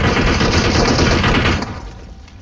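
An M249 light machine gun in the mobile shooter game PUBG Mobile fires a loud, dense sustained burst that cuts off and trails into quieter echo.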